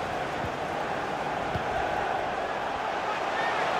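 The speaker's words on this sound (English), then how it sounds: "The crowd encouraging him to take it on." Stadium crowd noise in the EA FC 24 football game, a dense steady roar of fans encouraging the players at a constant level, with a commentator's voice over it.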